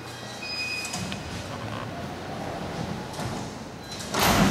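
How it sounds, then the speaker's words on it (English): An old Otis freight elevator door sliding shut, a rumbling, scraping mechanical run lasting several seconds with a heavier clunk at the end, heard nearby and with no talk over it. "now if someone wants to press the door close button"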